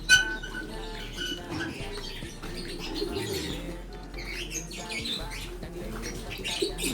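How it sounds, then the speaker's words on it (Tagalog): Caged birds in an aviary chirp and tweet in scattered bursts, with occasional rustling and a low background hum. "pakita ko sa inyo yung mga ibang ibon dito sa loob natin"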